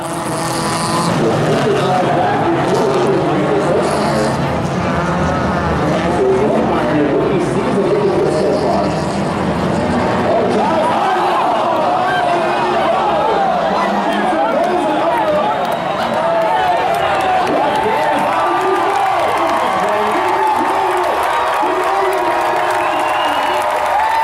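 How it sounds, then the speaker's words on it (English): Stock cars race as a loud, continuous engine roar, with engines rising and sweeping past one another, crowd noise mixed in, and the blended sound staying dense and sustained throughout. "show you Mike Jensen's wild ride, followed by Jamie Corbett's last lap exciting pass for the win."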